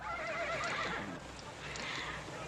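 A horse neighs loudly and close in a long rising and falling whinny, over a steady outdoor background with hoof clops beneath.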